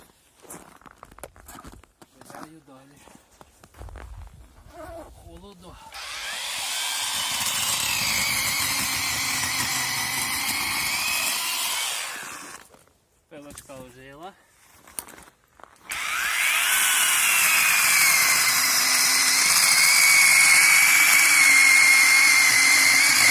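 A battery-powered saw cuts firewood in a village setting, running in two long, loud, steady bursts with a brief stop between them. Footsteps and handling noises fill the gaps, and a person talks briefly.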